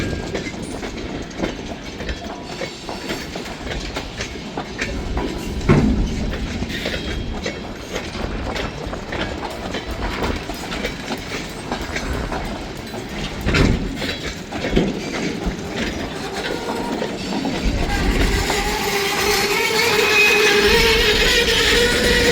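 Empty boxcars of a freight train roll steadily past close by, a continuous rumble with rattling clickety-clack that grows louder toward the end, with no voices.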